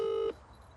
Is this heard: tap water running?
no